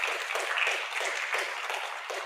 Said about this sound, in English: So give yourselves applause as well.